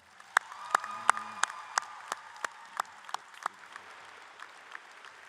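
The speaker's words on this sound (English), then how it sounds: "I think the class of 2024 needs to give those 5 one more round of applause." Sparse, scattered clapping from a high school graduation audience in 2024, a dozen or so distinct claps spaced out and tapering off rather than full sustained applause.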